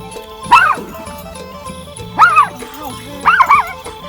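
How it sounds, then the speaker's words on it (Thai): A dog barks near a Thai outdoor kitchen, three loud, distinct yipping barks spaced about a second and a half apart, with people talking around them. "ดูลำบวน อยู่ดีก็เห่าแพะ"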